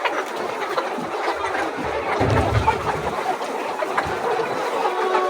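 Organically raised laying hens cluck and murmur while they feed. The busy, overlapping chatter of many birds continues throughout at close range, with no talking.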